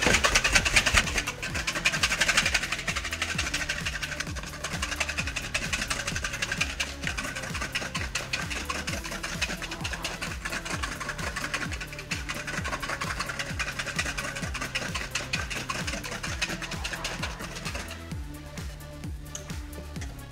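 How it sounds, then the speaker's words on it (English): A whisk beats zabaglione egg mixture in a metal bowl over heat with fast, steady, rhythmic scraping strokes that carry on without a break, close and moderately loud. "need to start beating this before it becomes a scrambled egg"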